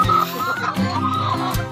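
Hens cluck and murmur close by inside a free-range chicken house, a busy overlapping chorus of throaty calls with no pause.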